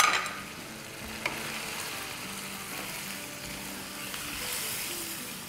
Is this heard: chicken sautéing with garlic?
yes